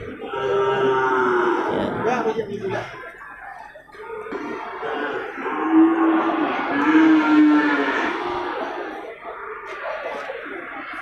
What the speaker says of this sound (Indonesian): Ini kan sapi-sapi Aceh ini ada beberapa ekor ya